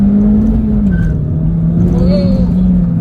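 A 2012 MINI Cooper S Coupe pulls under throttle in sport mode with traction control off, its engine droning loud and close with a steady low hum that dips, then holds, over road noise.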